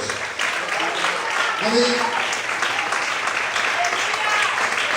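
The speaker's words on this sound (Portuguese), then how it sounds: "Aplauda, exalte aí nessa noite." A church congregation applauding loudly and continuously during a night service, with a voice briefly calling out over the steady clapping.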